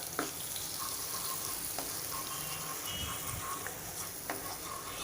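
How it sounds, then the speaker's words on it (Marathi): Fried thecha chili garlic paste with curry leaves is stirred into hot oil in a pan over low heat, giving a soft continuous sizzle with occasional scraping clicks of the spoon, fairly quiet and steady throughout. "हा ठेचा आपण तळलेलाच आहे त्यामुळे आपण तेलात मिक्स करून घेऊया"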